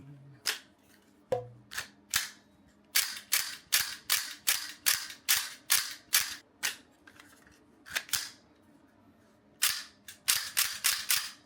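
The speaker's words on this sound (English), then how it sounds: "Racking the slide, swapping the mag, the snap of the recoil, all of it sells the fantasy the second you pick it up." A haptic VR gun controller fires in a string of sharp, loud mechanical snaps, mostly in a rapid even rhythm with short pauses between bursts, and a few lower clacks from slide racking near the start.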